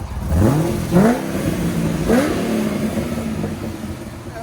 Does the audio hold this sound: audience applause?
no